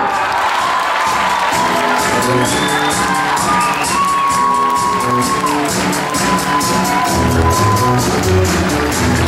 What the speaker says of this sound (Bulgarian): Аплодисменти за Елена Кутушева, втора подгласничка на Царица на розите Карлово от 2014.